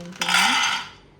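Peanuts tipped into a hot metal pan for frying in a home kitchen, a single bright clattering rattle of nuts hitting metal that quickly fades out.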